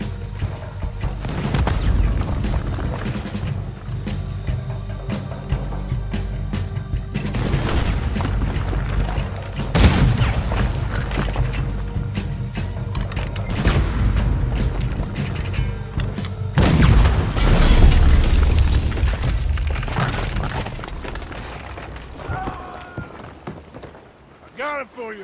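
Cannon blasts boom through a Red Dead Redemption 2 game scene, several loud heavy thuds spread across the clip over a dense rumbling battle bed, with voices shouting between the shots.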